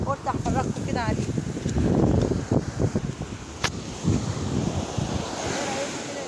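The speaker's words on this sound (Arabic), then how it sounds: "احنا ماشيين على شط البحر" Sea waves wash onto a beach during a Ramadan seaside walk, a steady surging roar with strong wind buffeting the microphone and a voice faintly present throughout.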